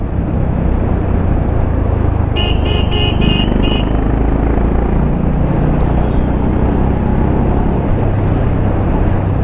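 Honda H'ness CB 350 motorcycle accelerating on the road: a loud, steady engine roar mixed with wind rush throughout, broken early by a quick run of five short, bright beeping tones.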